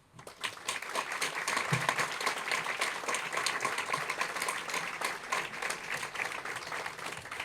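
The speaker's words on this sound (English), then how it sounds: "I want to just sort of give a round of applause again to Senator Welch" Audience applause at a housing grand opening celebration in Shelburne, a steady wash of many hands clapping at moderate distance for several seconds.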